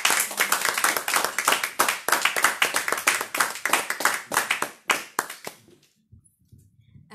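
A church congregation claps in a dense, rhythmic burst that goes on for several seconds, then thins to a few scattered claps and stops, leaving near silence.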